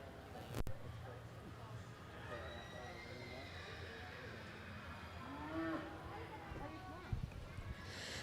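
Cow mooing at the Barrie Fair livestock show, a few low calls rising from a busy crowd background with talk throughout.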